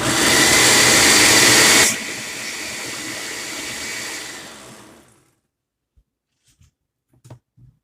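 An electric grinder whirs loudly as it grinds celery into celery salt, then drops to a lower whine and spins down to silence, followed by a few faint clicks.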